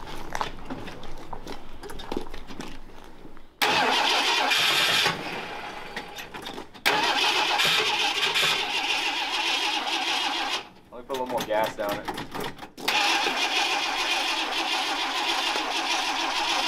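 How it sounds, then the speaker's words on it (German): A 1973 Ford Ranger engine cranks and catches on a small splash of gas in the carburetor, running roughly in loud bursts separated by brief cutouts, with people talking nearby. "Just go get a little bit of gas so you can see it kind of idle for like a couple seconds"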